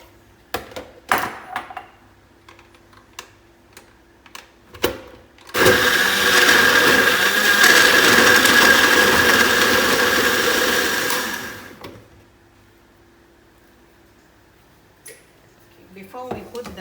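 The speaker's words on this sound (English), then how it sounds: "So first we will blender the ingredients" A blender whirs loudly for about six seconds, grinding curry ingredients including lemongrass (serai) steadily, between scattered clinks and knocks of kitchen handling before and after, while making chicken curry.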